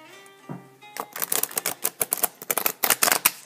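Large tarot deck being shuffled by hand, a quick run of crisp riffling card slaps and flutters following a brief tonal hum at the start, close and fairly loud with no talking.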